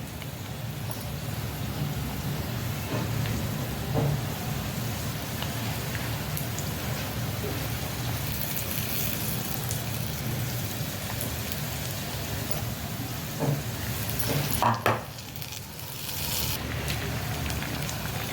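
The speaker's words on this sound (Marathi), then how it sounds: "अजूनही बाकीची राहिलेली टाकूया आपण तळून घेऊया" Chilli pakoda (mirchi bhaji) frying in oil, a steady soft bubbling sizzle throughout with a brief clatter near the end.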